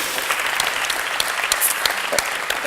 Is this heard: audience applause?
yes